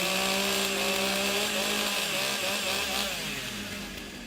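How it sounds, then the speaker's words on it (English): Chainsaws warming up at a STIHL Timbersports competition in Australia, a loud continuous buzzing whine that holds steady, then drops in pitch and eases off toward the end. "Warm up the saws."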